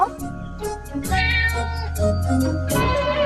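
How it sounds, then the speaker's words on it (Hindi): A cat meows loudly and insistently nearby, several drawn-out cries running into each other over a low background hum. "अरे बाप रे, एक बिल्ली।"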